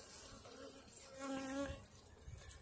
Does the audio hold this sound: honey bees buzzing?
yes